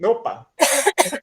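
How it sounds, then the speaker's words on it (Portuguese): A person interjects a short word, then gives two loud, harsh coughs in quick succession, close up. "Foi tosse, né?"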